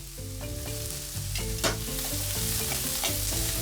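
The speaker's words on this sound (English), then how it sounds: "I will add my ginger garlic mix chopped. Let this sweat slightly." Chopped ginger and garlic sizzle in oil in a pot for a chicken, sausage and butternut squash stew, a close, steady crackle with light stirring scrapes and small utensil knocks, no voices.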